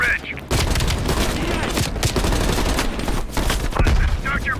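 Sustained heavy machine gun fire in a Call of Duty: Black Ops Cold War battle, a dense continuous roar of automatic shots with booming impacts, loud and close throughout, with voices faintly mixed in.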